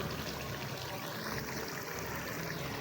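Water pours into a pot of arvi gosht, a taro and meat curry, as a steady, soft, rushing trickle lasting a few seconds with no talk.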